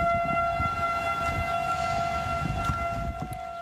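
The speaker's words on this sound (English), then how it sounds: "tornado sirens sounded in the Chicago area" A steady wailing tornado siren drones continuously at a distance in the Chicago area during storms, its tones holding level over a low rumbling background.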